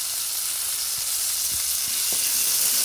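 Onion and tomato fry in a hot pan with lentils and spices, making a loud, even hiss of sizzling oil with a few faint low knocks underneath.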